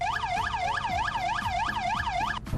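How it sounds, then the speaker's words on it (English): Police car siren from the Truckplanet video game, a loud, fast yelp that sweeps up and down about twice a second in a steady repeating pattern, with a lower tone overlapping near the end. "Second siren."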